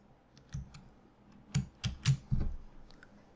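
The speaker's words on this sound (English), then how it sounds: "So just hit Control on your keyboard to select the other items." Computer keyboard keys clicked while selecting items in slide software, a few scattered soft taps followed by a cluster of louder, sharper key presses close by, with no speech.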